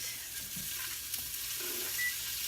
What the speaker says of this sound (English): So you're going to take your bacon and put it into a hot skillet